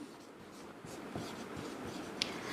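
A pen moves across paper during a maths lesson, giving a soft continuous scratching with light strokes and one brief sharper tick, with no voice over it.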